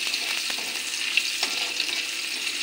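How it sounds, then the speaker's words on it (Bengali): Chopped onion, whole cumin and a bay leaf sizzle in hot oil in a pan, a steady close frying hiss with faint stirring scrapes throughout. "পেঁয়াজ আর গোটা জিরা তেজপাতাটা ভালো করে ভাজা করে নিয়ে"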